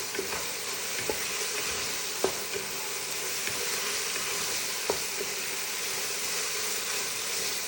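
Chicken sizzles steadily in a hot pan with cumin and black pepper as it is stirred, the continuous frying hiss broken by a few soft clicks of the utensil against the pan, with no voices.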